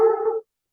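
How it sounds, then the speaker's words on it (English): Apollo, a dog in a private home under restoration, gives a single short, close vocalization, a brief whining bark-like sound that cuts off sharply into silence. "He's a great safe dog."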